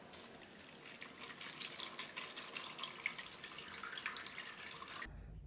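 Distilled water trickles and splashes steadily into a container holding a Philodendron in LECA clay pebbles. A continuous close pour runs for about five seconds, then stops abruptly.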